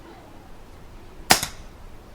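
A dry fire from an FX Wildcat Mk2 air rifle outdoors, a single sharp snap with a quick second click close behind, loud against a faint background hum.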